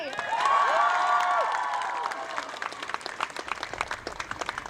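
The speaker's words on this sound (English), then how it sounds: "Can you give yourselves a round of applause" A crowd at an outdoor rally bursts into sustained applause with scattered cheers and whoops, the clapping thinning toward the end.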